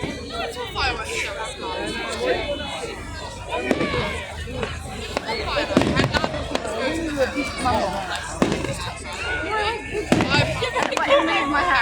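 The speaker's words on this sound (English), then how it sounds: "it's a fireworks show." Bonfire night fireworks pop and crackle at a distance in scattered bursts, partly masked by excited talking and chatter from people nearby.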